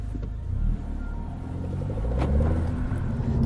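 A Mercedes-AMG A45 with a 2-litre engine drives fast, heard as a loud, steady engine rumble and road roar from inside the car that builds slightly as it accelerates.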